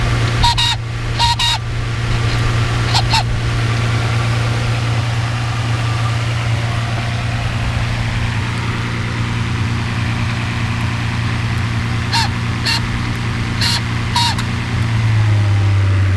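A Mercedes S600 W140 V12 idles under throttle actuator testing, a low steady hum running throughout at close range, with a few sharp clicking ticks early and late and a slight pitch shift at the very end.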